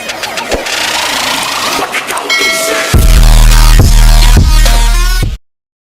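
A motorcycle engine cranks and fires up, first with a whirring start attempt, then catching into a loud, steady running rumble close by before cutting off abruptly.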